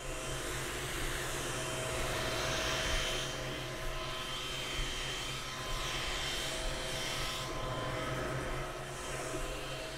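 Elegoo Neptune 3 Plus 3D printer running, a steady whir of cooling fans with quiet stepper motor hum underneath, continuous and even for about ten seconds with no talking.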